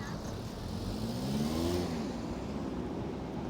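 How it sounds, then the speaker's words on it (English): A car drives past on a street near a bus and train station in Kaunas, Lithuania, its engine note rising then fading with a brief pitch sweep over steady traffic background. "Always best to let a car go rather than risk them accidentally putting their foot on the accelerator instead of the brake"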